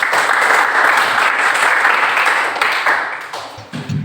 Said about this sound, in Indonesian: berikan dulu aplaus buat teman-teman yang telah berbicara